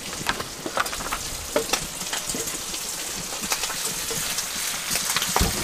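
Bacon frying in a pan for lunch on a Tasmanian road trip, a dense continuous crackling sizzle with scattered sharp pops, close and moderate in level, no voices.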